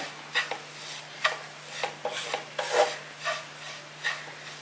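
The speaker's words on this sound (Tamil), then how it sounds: "இப்போ நம்ம வந்து வதக்கிற தேங்காயில் இதை கொட்டி விட்டுடலாம் இது எல்லாத்தையும் சேர்த்து வதக்குங்க" A ground paste stirred into sautéing coconut in a pan, with repeated scraping strokes of a spoon against the pan at an uneven rhythm, close and fairly quiet over a steady low hum.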